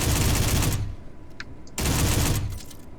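Rapid-fire 20-round weapon, a pistol or assault rifle in a survival video game, fires two loud close bursts of quick shots, the first about three-quarters of a second long and the second a second long after a short pause.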